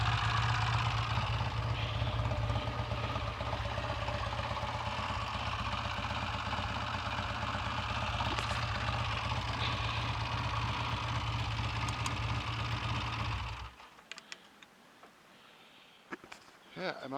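A Triumph T140V motorcycle engine, freshly back together after gearbox repairs, idles steadily and close by with an even low throb for about thirteen seconds before cutting off, leaving faint background noise.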